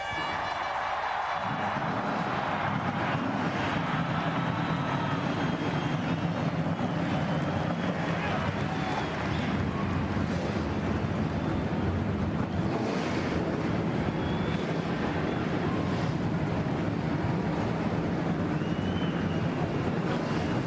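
NASCAR stock car engines roaring to life at Indianapolis Motor Speedway for the 2003 Brickyard 400, a dense, continuous loud rumble with wind buffeting the microphone throughout.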